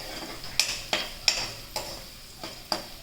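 Chopped onions sautéing in a pan for sweet corn vegetable soup, a soft sizzle punctuated by about eight sharp spoon scrapes and taps as they are stirred, close and fairly quiet, with no talk.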